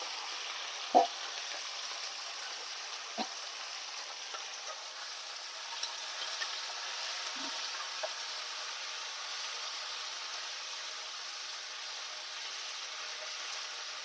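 Steady, soft hiss of moringa leaves sizzling in a frying pan of tempering oil, with a few faint clicks and taps, no voices.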